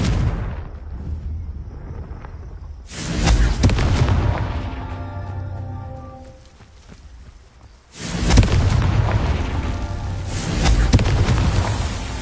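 Two heavy booming blasts from the Confringo explosion spell in a PS4 video game, each a loud burst with a long rumbling decay, sounding alone without speech.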